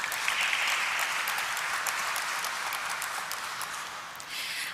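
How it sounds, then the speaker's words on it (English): An audience applauds at the stock-exchange listing ceremony of Valiant Laboratories Limited, a steady, dense roar of many hands that holds for several seconds and thins slightly toward the end. "A round of applause for Valiant Laboratories."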